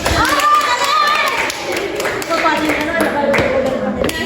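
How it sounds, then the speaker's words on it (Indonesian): Students in a classroom clap in response to a teacher, with distinct hand claps mixed with overlapping children's voices and chatter. "Tepuk tangan dulu"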